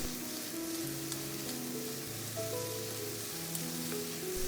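Chicken and zucchini sizzle in a hot pan as they are stir-fried with Maggi seasoning, a steady quiet crackle and hiss that continues throughout, with no talking.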